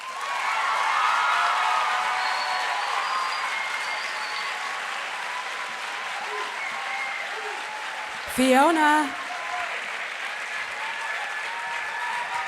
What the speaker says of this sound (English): We're always clapping for the poet, regardless of the scores, because we love the poets